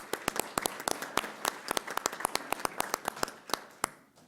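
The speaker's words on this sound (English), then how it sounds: "I'd like to give them a round of applause for their work." Sparse, scattered clapping from a small audience at a school governing board meeting, distinct individual claps in an irregular rhythm, fairly faint, fading out at the end.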